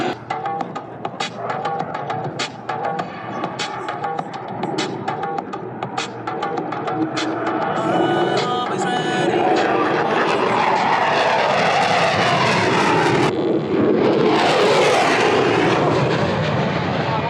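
Aerobatic airplane flying a half Cuban maneuver at the Thunder Over New Hampshire air show, its engine a steady broad roar that swells louder and fuller over the second half, with crowd noise and a PA voice underneath.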